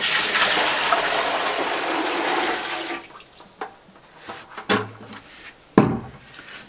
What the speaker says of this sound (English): So I'm going to put the rainwater in here.